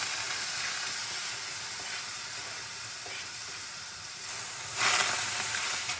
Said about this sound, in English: And we'll start by stir frying